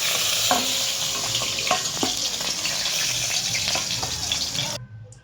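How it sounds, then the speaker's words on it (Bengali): Cauliflower pieces frying in hot oil, a loud steady sizzle with occasional spatula scrapes, cutting out abruptly at the end. "কপিটা ভেজে নিচ্ছি।"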